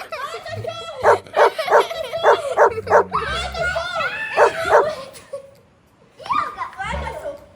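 A dog barks in repeated short yips amid children's excited voices and play, with girls talking over and between the barks at close range.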